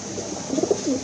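A ring pigeon coos up close, a short run of soft rolling, throaty notes lasting about a second, clear and alone.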